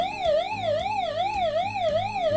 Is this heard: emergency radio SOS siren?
yes